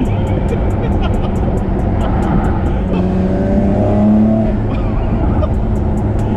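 Nissan Skyline R34 GTR engine pulling hard, a loud continuous drone with rising tone heard from inside the car, accompanied by faint regular ticking.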